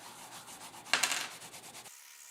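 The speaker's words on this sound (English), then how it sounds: "I'm just going to use this piece of carpeting with some semi-chrome on it" Carpet scrap loaded with Simichrome polish rubs quickly against a .50 caliber bullet shell casing, a close, steady dry scrubbing that swells into a brisk burst of strokes midway, then cuts off into quiet.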